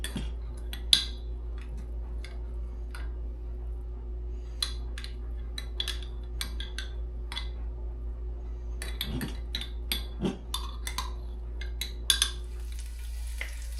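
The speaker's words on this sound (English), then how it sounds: "I don't want to put all this fat into the soup, so we're just gonna scrape it off" A spoon scrapes fat off the surface of soup in a pot, making faint scattered scrapes and light metallic clinks over a steady low hum, with no voices.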